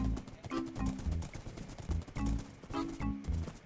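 Horse hooves clip-clop in a video game, a quick run of rhythmic thuds that come and go under game music and other sound, fairly close and moderately loud.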